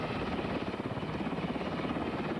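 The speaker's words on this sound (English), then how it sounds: "an Army Black Hawk helicopter is returning with an injured soldier." An Army Black Hawk helicopter returning with an injured soldier thumps steadily with a loud, dense rotor roar, close and continuous, with no voices.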